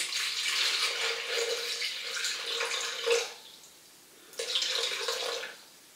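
Water poured out for a doubled boilie bait recipe, 600 ml measured in: a steady broadband splash that runs for about three seconds, breaks off, then resumes for a second shorter pour, with no talking over it.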